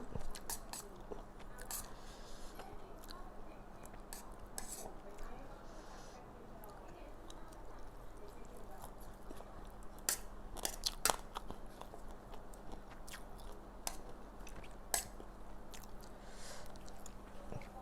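Close, quiet chewing of spicy stir-fried frog with young green peppercorns and herbs: soft crunches and wet squishes repeat through about eighteen seconds, with faint murmured talk underneath.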